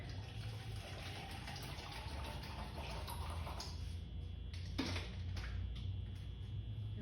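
Water pouring from the bottom button of a home water machine, a steady gushing, splashing flow with a low hum underneath, fairly quiet and continuous.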